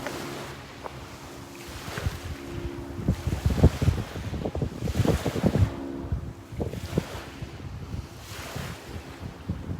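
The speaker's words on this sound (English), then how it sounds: "I'm at the beach, as you can see." Ocean waves at a beach, surging and receding in slow swells of rumbling surf every couple of seconds, with wind noise on the microphone and no voices.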